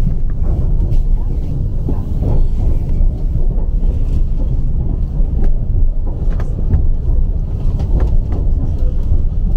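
Class 720 electric multiple unit departing London Liverpool Street, a loud, continuous low rumble and wind-like rush with occasional knocks, heard from on board.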